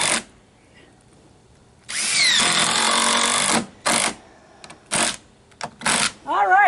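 Cordless power drill driving screws into a treehouse deck board: one long loud whirring run, then several short bursts, with a voice speaking in the gaps.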